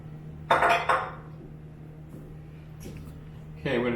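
A spoon clinks and scrapes against a cooking pot as food is stirred in a kitchen, a few distinct metallic knocks and clatters over a steady low hum.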